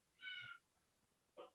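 A pet cat gives two soft, faint meows indoors, a longer one followed after a short pause by a brief second one, with no talking.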